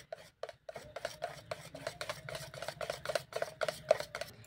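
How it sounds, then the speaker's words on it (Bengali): Wire hand whisk beating flour into a batter in a bowl for rosh bora, a fast run of rhythmic scraping strokes, steady and close, with no voices. "একটা হ্যান্ড উইক্স নিয়েছি, এর সাহায্যে মিশিয়ে নিচ্ছি।"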